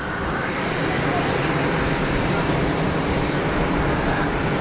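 A KLM Embraer jet airliner at Geneva Airport gives off a continuous, even engine rumble, with voices talking over the drone.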